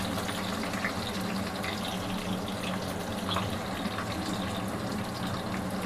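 Sliced onions and curry leaves sizzle steadily in a pan while an Andhra-style brinjal and mango curry is cooked, a dense, even crackle and hiss that runs without a break at close range, with no talking.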